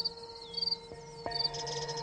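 Crickets chirp in a garden in short, rapid pulsed bursts, faint and close, over quiet steady background tones.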